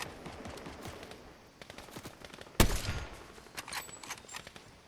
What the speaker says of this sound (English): Now we're taking fire from behind, and so we'll relocate.